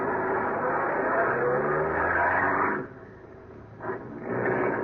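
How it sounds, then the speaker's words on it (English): Car engine running steadily at close range with a continuous low rumble, dipping briefly near the end before picking back up. "I switched on my ignition, started my car"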